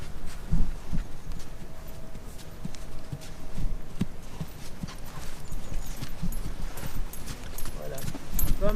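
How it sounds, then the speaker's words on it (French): Hooves clip-clop in a steady, rhythmic trot, fairly close, with a voice speaking intermittently over the beat. "Je pars au trot en tournant à droite."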